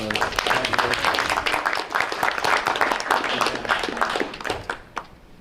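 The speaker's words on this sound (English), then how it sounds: "So I think we can give you a round of applause." Applause at a school board meeting: a room of people clapping steadily and fairly loudly for several seconds, with some voices mixed in, before the clapping tapers off and stops.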